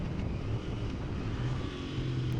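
A Royal Enfield Interceptor 650 motorcycle engine runs with a steady, even drone at moderate volume, with no talking.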